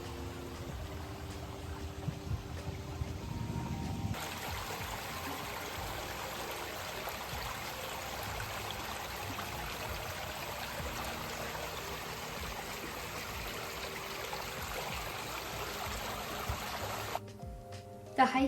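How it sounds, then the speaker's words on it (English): A small, clear creek runs over rocks on a mountain hike in Georgia, giving a steady, even rush of flowing water that continues unbroken for the whole stretch. "we saw this little creek, which was just so beautiful. I loved how you could see the water with the little rocks on the bottom."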